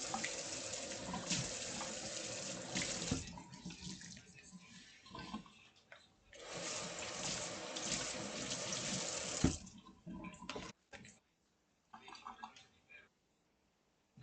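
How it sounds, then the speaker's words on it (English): A kitchen tap runs into a sink while a counter is washed with soap, steady splashing water in long bursts with pauses, dripping and handling noises, fairly close, with someone speaking over parts of it. "Also gonna wash here with a little bit of soap."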